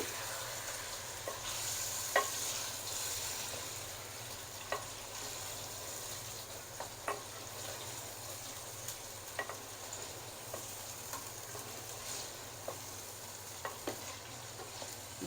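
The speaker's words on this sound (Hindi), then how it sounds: "गोश्त को थोड़ी देर फ्राई करेंगे।" Meat frying in a pot for aloo gosht, a steady soft sizzle running throughout with occasional sharp clicks and scrapes as it is stirred, no voices.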